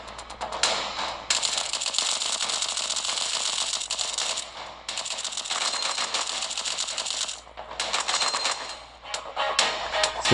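Sustained automatic gunfire from the mobile shooter game Cover Fire, played on a Xiaomi Mi 9T / Redmi K20 phone, rattling in long dense bursts with brief gaps, loud and close, with no talking.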